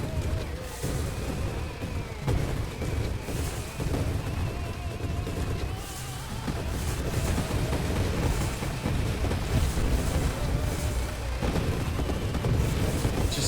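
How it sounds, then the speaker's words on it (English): Explosions from the space shooter game Nova Drift boom constantly, a steady rumbling barrage of blasts layered over tonal game sounds, with no quiet gaps throughout. "Just the sheer amount of explosions that's constantly going off."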